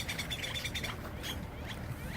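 Birds chirping and calling at a park lake while being fed, with repeated high, bright tweets over a steady, busy background of outdoor noise at moderate loudness.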